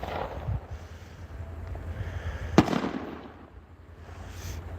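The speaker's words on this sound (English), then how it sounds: "I sure do like the smell of fireworks." Fireworks over South Manistique Lake in Curtis, in Michigan's Upper Peninsula: one sharp boom stands out among fainter distant crackles and rumbles, with wind noise buffeting the microphone throughout.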